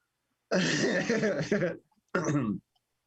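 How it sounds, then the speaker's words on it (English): A person clears their throat loudly in a long, rasping burst, pauses briefly, then gives a second shorter throat clearing. "Are you like trying to clear your throat?"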